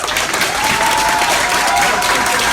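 Sustained audience applause at a political speech, loud and steady throughout, a dense wash of clapping with crowd noise and no clear talk.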